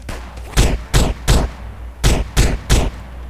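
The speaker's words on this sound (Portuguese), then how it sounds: "Vou atirar." Six loud, sharp gunshots ring out in two groups of three in GTA San Andreas, evenly spaced with short gaps between them, with no talk over them.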